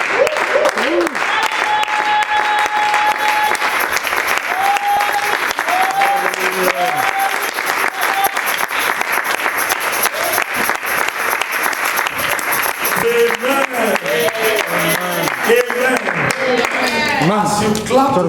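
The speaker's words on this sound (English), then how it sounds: "As you clap to thank God" A church congregation claps and applauds steadily throughout, a dense, continuous wash of hands with voices and a few cheers rising over it, especially toward the end.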